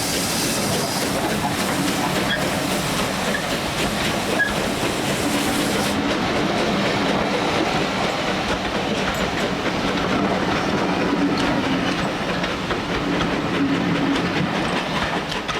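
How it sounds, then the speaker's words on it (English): GWR Prairie Tank steam locomotive No. 5526 rolls past with a train near Napper's Halt on the South Devon Railway, a loud continuous rumble with rhythmic wheel clatter over rail joints, steady throughout. "Prairie Tank Locomotive No. 5526 is seen shortly after passing Napper's Halt with a 14:02 p.m. departure from Totnes"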